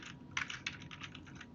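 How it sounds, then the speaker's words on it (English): Keystrokes on a computer keyboard as a command is typed at a Windows command prompt: a quick burst of about a dozen close, light clicks in an irregular rhythm, with no speech. "I'm going to type in ipconfig"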